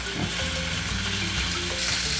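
Ingredients sizzle steadily as they stir-fry in a pot for cheonggukjang stew, a continuous close frying hiss with no talk.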